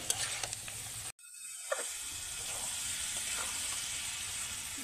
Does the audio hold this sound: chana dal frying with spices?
yes